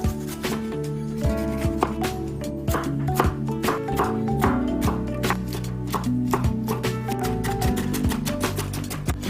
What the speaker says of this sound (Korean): 잘게 다져주세요.